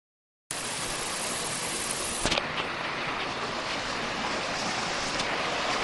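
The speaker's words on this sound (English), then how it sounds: "Got here at Mountaineer Falls." Mountaineer Falls on the Appalachian Trail in Tennessee, a steady roaring rush of falling water that starts suddenly and holds constant, close and loud, with no voices.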